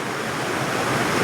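A waterfall behind a fairy bridge pours with a loud, steady broadband rush, continuous and close without pause, with no one speaking over it.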